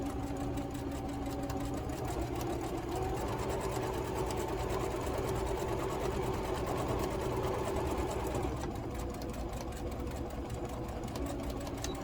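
A sewing machine stitches a quilt block, including a back stitch to lock the seam: a steady, close mechanical whir and hum that runs without a break and shifts in tone briefly near the end.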